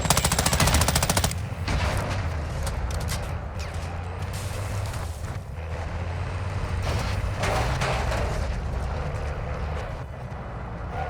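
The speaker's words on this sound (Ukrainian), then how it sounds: "щось там спереді стріляє, наче" Rapid bursts of gunfire in Call of Duty: Modern Warfare II Warzone 2.0 DMZ rattle at the start, followed by a droning vehicle engine with scattered shots and clanks over it.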